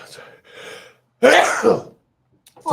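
A single loud, sharp sneeze bursts out after a brief bit of talking, followed by a quick breath.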